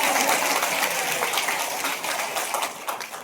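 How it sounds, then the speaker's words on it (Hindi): An audience at a Guru Puja devotional program claps together, a loud and dense round of applause that carries on steadily for a few seconds with no talking. "तो एक बार ताली अपने लिए बजा दीजिए।"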